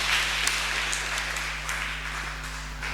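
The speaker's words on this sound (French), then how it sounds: "Applaudissons pour Jésus." Church congregation applauding after a sermon, a steady, distant wash of clapping over a low hum that lasts the full three seconds with no individual claps standing out.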